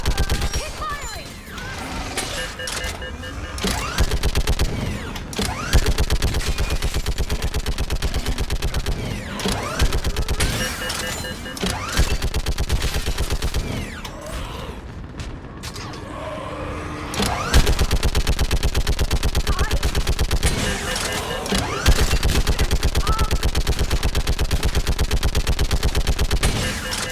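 Sustained gunfire in a battle from the video game Mass Effect 3, during the fall of Thessia: dense automatic weapon bursts and heavy shots, loud and continuous with crashes, and shouted voices briefly mixed in.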